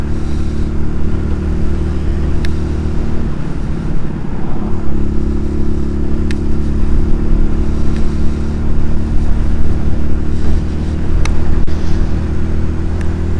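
A Honda CD200 motorcycle with its ignition timing still slightly out runs along a road, giving a steady, close engine drone that holds even with a brief dip in pitch partway through.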